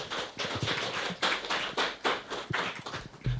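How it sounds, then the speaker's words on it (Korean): Seminar audience applauding after a presentation on skills development partnership, with steady, fairly close clapping that swells and dips over a few seconds. "우즈베키스탄에 한 번 더 이제 뜨거운 박수를 부탁드리겠습니다"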